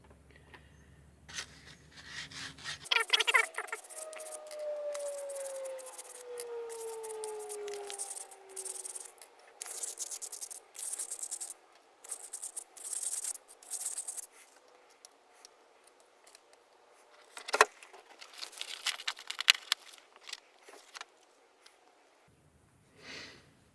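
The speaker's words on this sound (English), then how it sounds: "we give the tubes a bit of a rough up, just to give the super glue something to stick onto with a bit of fine-ish sandpaper" Pen tubes being roughed up with fine sandpaper of around 180 to 200 grit, heard as intermittent close scratchy rubbing strokes in irregular bursts with quiet pauses between.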